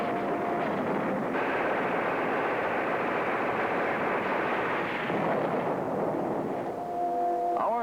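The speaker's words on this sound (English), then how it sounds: "Artillery engaged in a duel with enemy guns." Artillery guns dueling with enemy guns make a dense, continuous roar of booming fire, loud and rumbling throughout, with a hint of a tonal sound at the very end.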